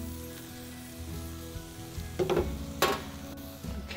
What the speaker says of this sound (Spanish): Voy a tratar de dorar el pan.